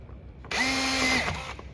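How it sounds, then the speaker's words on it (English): A power drill whirs up for about a second with a rising motor whine, then spins down, heard close and loud against a quiet background while drilling a hole for mounting a grille light. "I'm gonna drill a hole on each side."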